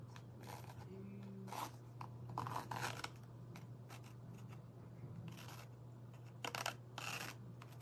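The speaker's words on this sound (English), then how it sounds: "I'm not going to cut this out exactly" Scissors cut through paper at a crafting table, a series of faint snipping and rustling strokes spread unevenly over several seconds against a steady low hum.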